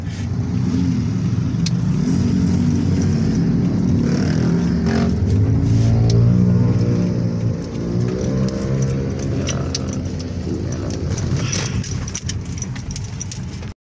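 A Toyota Vios engine starting during a hard-starting test, with key jangling, cranking that catches, then a loud, close idle with a brief rev, running steadily with no talk.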